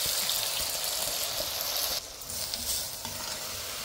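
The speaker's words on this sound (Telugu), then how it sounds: "అన్నీ వేయించాం కదా, ఆ వేయించిన దాంట్లో ఈ మిల్లెట్స్ పప్పులు అన్నీ కలిపేసేసుకుని" Millets and lentils stirred into already fried ingredients in a pan, giving a continuous close sizzling hiss with scraping stir sounds that drop in loudness partway through.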